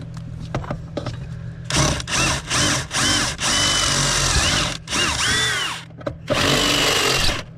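Power drill boring and threading a bolt hole for mounting a fuse box in a Crown Victoria with an LS engine swap, loud whirring bursts that start and stop repeatedly, close up, with no talking.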